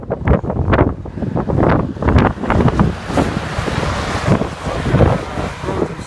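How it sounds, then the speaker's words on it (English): Strong blizzard wind roars and gusts by an open freeway bridge, buffeting the microphone in loud, uneven surges throughout with no speech. "But look at that wind."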